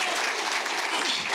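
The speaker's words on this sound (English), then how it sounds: "Clap for them." A brief burst of audience clapping at a community meeting, dense and steady, from a crowd of many hands at moderate volume.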